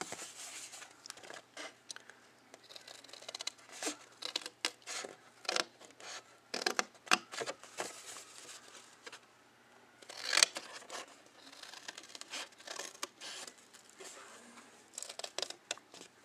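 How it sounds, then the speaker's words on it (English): Scissors cutting through chipboard at an angle for a handmade box: repeated close snips and rough scraping crunches come in uneven bursts, with short pauses between cuts. "So cut it at an angle."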